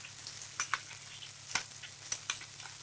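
Soft sizzle of ground chili paste going into hot oil in a pan for a shrimp and bamboo shoot curry, with scattered stirring scrapes and spatters, fairly faint and close.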